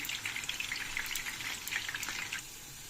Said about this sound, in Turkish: Şimdi şöyle bir kızartayım ben.